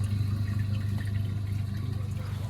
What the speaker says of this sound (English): And now you can hear the water running.